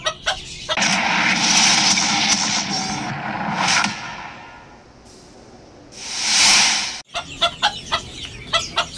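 Brahma hens cluck in a backyard coop, their short calls set against a loud, broad hissing noise. The hiss swells and fades, and brief clucks and knocks follow near the end.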